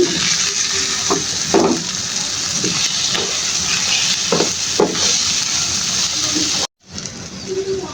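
Chicken pieces cooking in a pan for chicken pasta with egg, tomato and spices, giving a steady loud sizzle with scattered stirring clatter, then a brief cut to quiet before the sizzle returns.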